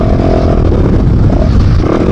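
A Fantic 450 Rally motorcycle revs hard on an enduro ride, its loud, continuous engine roar rising and falling close up with wind buffeting over it.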